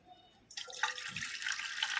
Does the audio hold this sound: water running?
yes